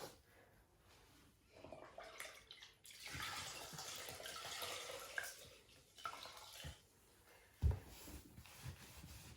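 Water splashes and runs while furniture is rinsed during cleaning and de-waxing, in several bursts of sloshing and pouring with quieter gaps and a sharp knock near the end, close and without speech.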